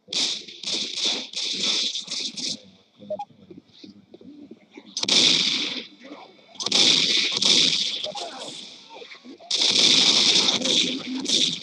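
Shotgun blasts from Left 4 Dead 2 gameplay: bursts of loud, sharp reports in rapid clusters, separated by short lulls, with a broad booming echo under each volley.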